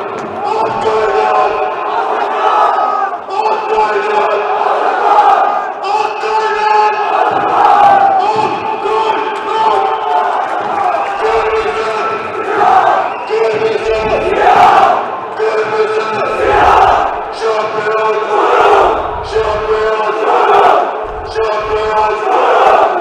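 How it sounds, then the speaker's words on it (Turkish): Çorum FK football fans chant in the stands after a goal in a match against Düzcespor, a loud, dense crowd roar with rhythmic group chanting and rising surges of noise that carries on without a break. "şampiyon Çorum Tezahüratları Protokol tribününde"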